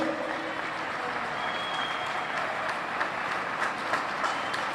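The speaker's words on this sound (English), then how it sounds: "How about a round of applause once again for our incredible group up on stage?" Crowd applause for a group on stage at a NASCAR Cup Series announcement event at World Wide Technology Raceway in St. Louis, a steady, even wash of clapping that holds at one level throughout.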